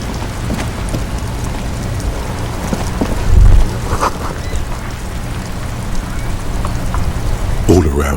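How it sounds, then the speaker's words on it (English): Steady rain pours over the great city of Revachol in Disco Elysium, a dense continuous hiss of drops and dripping eaves, with a brief low thump partway through and a calm narrating voice speaking over it. "rain falls on the great city of Revachol. Rain drips from the eaves and floods the gutters"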